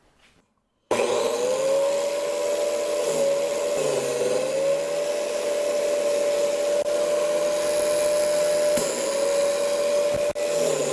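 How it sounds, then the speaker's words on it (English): A spinning sanding disc grinds against a rotating wooden disc, starting abruptly after a brief silence and then droning in a loud, close, sustained whine that wavers slightly as the wood is pressed and turned. "all I need to do is to rotate the wooden disc against the sanding disc"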